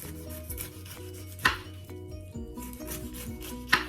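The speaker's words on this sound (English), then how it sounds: "Now I'm going to start out by peeling my pine" A knife peels the tough skin off a pineapple with repeated close, crisp scraping and cutting strokes over steady background music, with two sharper cuts standing out.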